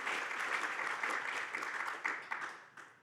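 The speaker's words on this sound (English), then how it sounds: "So quick round of applause for Helen as well" Quiet round of applause from a live podcast audience in Queenstown, steady clapping that thins toward the end into a few last scattered claps, heard from some distance.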